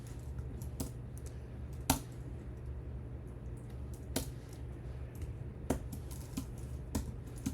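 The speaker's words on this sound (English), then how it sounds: "I dug out a wireless keyboard the other day" Keystrokes on a wireless computer keyboard during a C# coding session, a steady patter of soft clicks with a few sharper taps, close and fairly quiet over a low background hum.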